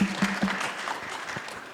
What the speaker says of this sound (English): I'll give an applause to that.